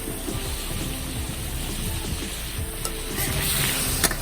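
Duck meat sizzles and spits in a wok over a wood-fired stove, a constant close frying hiss with small crackles and the clatter of stirring, no voices.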